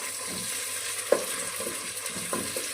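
Chopped tomatoes hit a pan of cooked onions for khichuri and sizzle steadily, a dense, close frying hiss with a few sharp clinks and stirring scrapes scattered through, and no voices.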